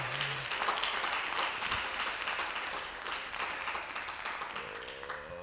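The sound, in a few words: church congregation applauding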